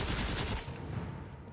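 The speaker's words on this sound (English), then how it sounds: "Guns." Gunfire in the video game Destiny: rapid automatic bursts crackle loudly for about half a second, then a fainter rattling tail fades away, with no voices present.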